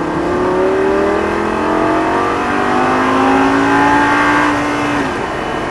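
A Lamborghini Gallardo LP 560 engine revs up steadily, its pitch climbing through the gears with a sustained roar, loud and close, no voices.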